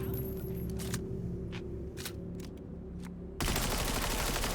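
Gunfire in Cyberpunk 2077, a string of sharp shots cracking over a steady game background hum, followed by a sudden loud burst of rapid continuous fire as the trigger is held down.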